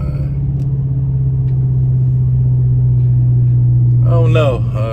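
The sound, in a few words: 2021 Dodge Charger Scatpack exhaust with 5-inch Carven tips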